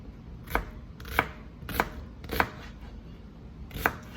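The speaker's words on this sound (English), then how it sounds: "I don't put a lot of onion in rice. Just a little bit. Chop it fine." Knife chopping onion finely on a board for Jamaican gungo rice, five sharp, evenly spaced chops close by with a quiet pause before the last, no talking.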